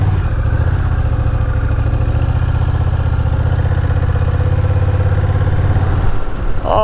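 A Honda CMX1100 Rebel cruiser engine thrums steadily at low revs, a loud close rumble throughout as the bike pulls away in first gear, cutting off abruptly near the end.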